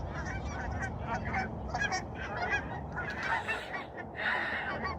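Geese honk repeatedly outdoors during a ride on a Gravity Deadeye 29 single-speed mountain bike, a busy flock of loud, overlapping calls at close range with no talk.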